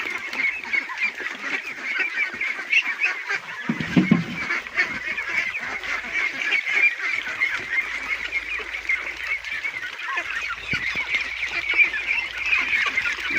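A flock of domestic ducks fed azolla quacks and honks in a constant dense chorus close by, with steady chattering calls and occasional louder squawks throughout.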